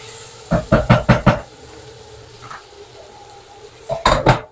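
Spoon stirring onion in a cooking pot, a quick run of four clanking scrapes followed after a pause by another short burst of knocks against the pot.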